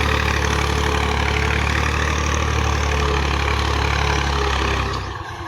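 A Massey Ferguson 240 tractor, hitched to a sugarcane planter, idles with a loud steady diesel drone that drops away abruptly near the end.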